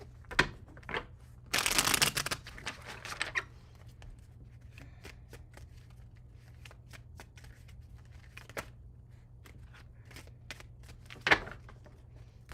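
Tarot cards are riffled in one loud burst, followed by scattered light taps and flicks of cards being handled, with no talking.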